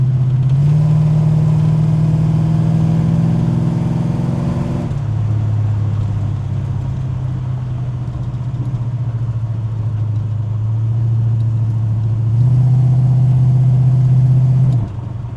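A 1969 Dodge Charger on a test drive, its engine droning loud and steady from inside the cabin, with pitch rising and falling slightly as the car cruises and eases off, no talking.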